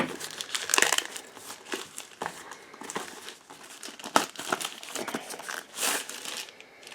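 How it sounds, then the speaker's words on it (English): A plastic package is cut and pulled open with a Buck Frenzy knife, producing close, irregular crinkling, rustling and crackling bursts with a few sharper snaps, no speech. "We'll use the Buck Frenzy knife to open this package"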